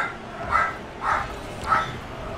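Dogs bark three times at an even pace, each bark muffled and somewhat distant, heard over a steady low background hum.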